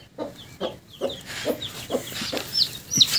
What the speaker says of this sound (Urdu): یہ ماشاء اللہ چھوٹے چھوٹے چوزے ہیں